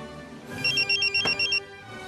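A telephone rings with a rapid electronic trill in short repeated pulses, loud and close, alone without any talking.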